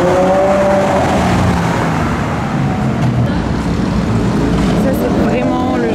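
A red Ferrari 812 arrives at the Zoute Grand Prix 2021, its engine a loud rising and falling roar amid busy street traffic noise, with someone speaking over it.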